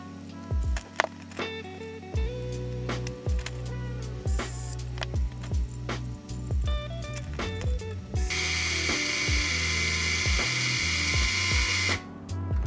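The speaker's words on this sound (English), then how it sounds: "So you're going to be screwing the screws in like here, so it's going to hold everything in place." Small screws are driven into a tiny FPV drone frame with repeated short bursts of a powered driver, each burst clicking to a stop. A longer steady whir follows near the end. The sound is close and alone.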